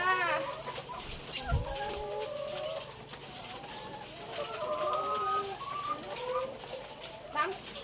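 Laying hens on a small home egg farm cluck and croon in short, rising calls, close and moderately loud, scattered irregularly while people talk nearby.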